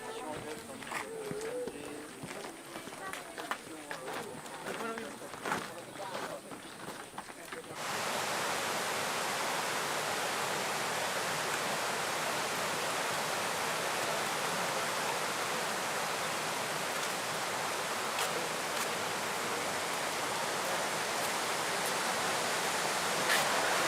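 A freshwater river gushes out of a tunnel near the Kelud volcano as a steady, loud, broadband rush that fills the air after the first few seconds. Before that, lighter water noise and footsteps come through.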